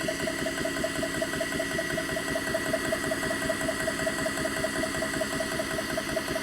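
A JTS air compressor runs steadily while filling to high pressure, a constant mechanical hum with a fast, even pulsing drone that holds at the same level throughout, with no talk.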